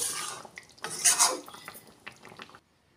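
A metal spoon stirs a green jackfruit and potato curry finished with ghee in a pan, with close clinks and scrapes against the metal for about two and a half seconds, no voices.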